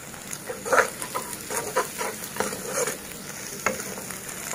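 Scrambled eggs frying and being stirred in a hot pan, with a steady soft sizzle broken by several scraping stir strokes, close and moderately loud with no talking.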